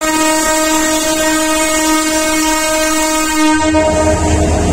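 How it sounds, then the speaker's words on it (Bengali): A Tista Express passenger train hauled by a 2900 series locomotive departs, its loud sustained horn blaring with steady harmonic tones over a rumbling engine and wheels, the horn cutting off near the end as the low rumble grows. "তিস্তা এক্সপ্রেস ছেড়ে যাবে এখন 2900 সিরিজের লোকোমোটিভ নিয়ে।"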